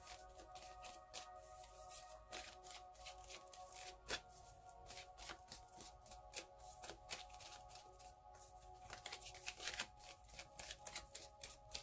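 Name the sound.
tarot cards being shuffled for a reading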